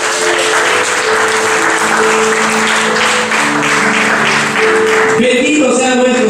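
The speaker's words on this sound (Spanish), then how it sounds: "Den un fuerte aplauso a Cristo Jesús." Church congregation applauding loudly and steadily, a dense wash of clapping that fills the space, with a shift in texture near the end as the clapping fades into other sounds.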